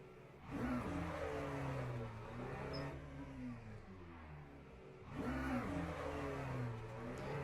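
A car in the racing game Le Mans Ultimate revs hard for a burnout. The engine drone rises and falls in two surges with a rising harmonic pitch, faint and steady in tone between the pulls.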